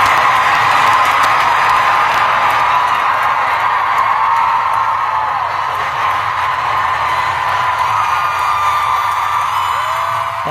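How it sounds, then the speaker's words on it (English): Crowd at a concert, recorded from among the audience: a dense, continuous roar of cheering, whooping and shouting that stays steady and fairly loud throughout with no clear talk. "wait, you just gave me crowd noise?"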